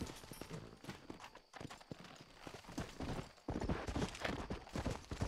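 Horse hooves clip-clop in the Red Dead Redemption video game, a brisk run of close, repeated hoofbeats that carries on throughout with no talking over it.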